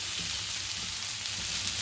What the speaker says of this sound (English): Saute the potatoes in between.